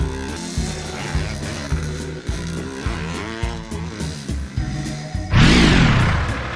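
A short engine burst from a cartoon scooter rises suddenly near the end, loud over a bouncy children's song with steady music underneath.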